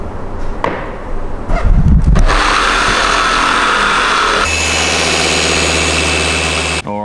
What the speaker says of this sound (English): we go through this stage of buffing the paint to try and get out problems exactly like this